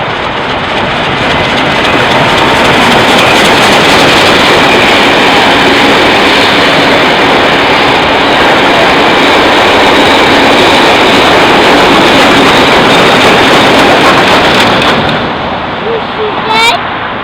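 A loud, close, continuous roar of a passing steam train hauled by locomotive K160 fills the whole stretch, dense and rumbling, easing off near the end as it goes by.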